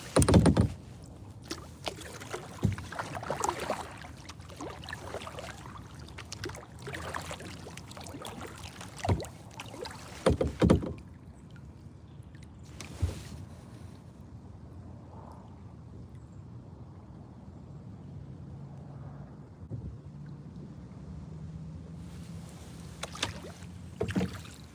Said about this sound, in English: It's getting tough to paddle because now that I'm in the current